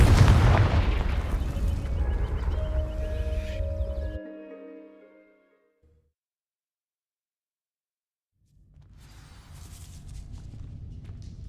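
A Confringo fire spell blast in a video game fires off as a heavy booming burst with a roaring, ringing tail that fades into near silence, then low ambient rumble returns.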